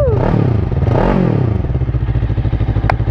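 Close, loud motorcycle engine given a couple of quick revs that climb and drop back, then settling into a steady, chunky idle pulse.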